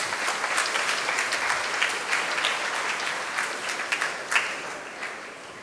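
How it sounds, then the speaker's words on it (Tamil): Congregation claps for the children during a Tamil First Holy Communion Mass in a church, steady applause with a few sharper claps standing out, moderately loud and without speech. "பிள்ளைகளுக்கெல்லாம் ஒரு கைத்தட்டல் கொடுங்க."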